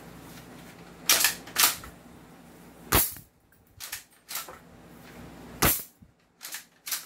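An airsoft shotgun is cocked and fired several times, sharp loud snaps and clacks spaced irregularly, some in quick pairs, with quiet pauses between and no talking.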